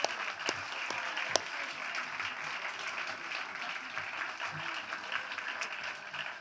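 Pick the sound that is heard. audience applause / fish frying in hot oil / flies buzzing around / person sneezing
audience applause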